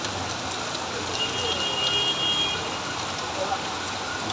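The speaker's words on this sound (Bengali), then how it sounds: "ঝুম বৃষ্টি শুরু হয়েছে" Heavy monsoon rain pours steadily in Bangladesh during the Asharh season, a dense, continuous hiss of downpour with no breaks, fairly loud and even throughout.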